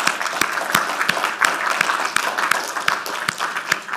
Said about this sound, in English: I would like you to thank all of them with a round of applause